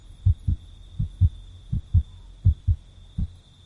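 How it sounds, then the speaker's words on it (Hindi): A pounding heartbeat sound effect sets up an even lub-dub rhythm, with four paired low thumps spaced about three-quarters of a second apart, clear and upfront over a faint steady hum. "उसका दिल इतनी ज़ोरों से धड़क रहा था कि मानो सीना फाड़कर दिल बाहर आ जाएगा।"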